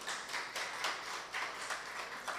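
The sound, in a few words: audience applause at youth symposium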